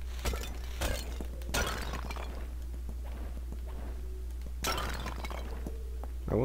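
Objects smashing and glass shattering in the video game Bully Scholarship Edition, several loud separate crashes with tinkling shards between quieter stretches.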